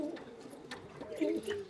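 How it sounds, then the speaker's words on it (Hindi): A pet pigeon gives a few low, soft coos at close range, broken by small rustles and clicks. "माशाल्लाह बड़ा अच्छा कबूतर है और तेज तरार कबूतर"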